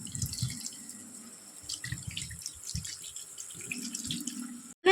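Water trickles and splashes into a pot of cooking chicken curry in uneven bursts, fairly close and quiet, with no talking.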